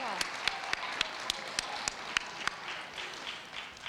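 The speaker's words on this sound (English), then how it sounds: "Yeah, we can clap as much as you want." Audience applause at an all-district chorus concert, a steady wash of clapping with distinct sharp claps up front, fading slightly toward the end.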